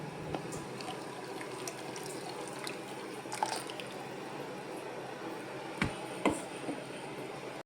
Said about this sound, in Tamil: இதை இப்போ இங்கே வடிகட்ட போகிறோம்.